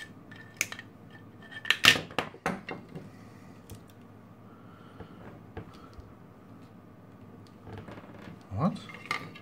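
Cutters snip through wire inside a replica Apple MacBook charger, giving a few sharp, close clicks and snaps with scattered handling clatter and some faint speech.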